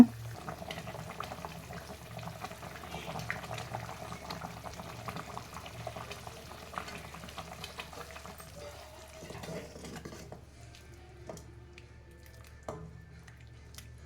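A pot of egg gravy simmers steadily with a soft bubbling hiss, close by, with a few faint clinks of utensils toward the end.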